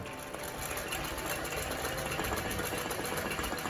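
A Singer 20U industrial sewing machine runs continuously while stitching embroidery, a steady rapid mechanical chatter that stays loud and even throughout without pauses.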